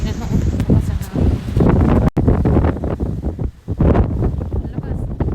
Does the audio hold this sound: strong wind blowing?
yes